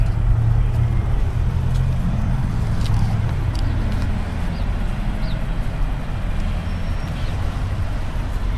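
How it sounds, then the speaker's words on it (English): A racing truck passes on the road near a mall outlet, a steady low engine drone under general traffic noise with a faint hiss of air brakes. "Oh, there's the racing truck."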